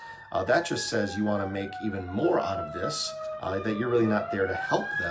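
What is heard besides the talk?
siren of a passing vehicle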